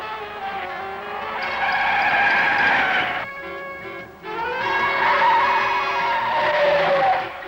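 Race car tires squeal loudly through bends on an abrasive track, two long shrill skids with a brief dip between them, engine noise beneath and no talking.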